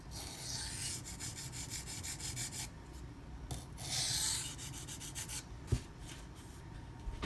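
An Emerson A100 knife blade rubs back and forth on a 320 grit sharpening stone in steady gritty strokes, close and fairly quiet, with a light knock near the end.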